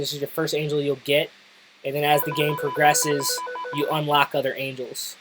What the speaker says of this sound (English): Sorry for the phone noise there.